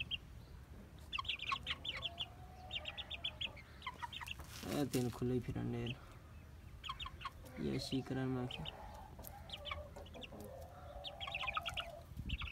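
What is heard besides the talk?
chicken clucking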